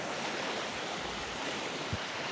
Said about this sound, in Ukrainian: Так, да, хвиля, звісно нехороше.